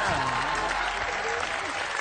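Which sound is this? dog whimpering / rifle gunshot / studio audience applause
studio audience applause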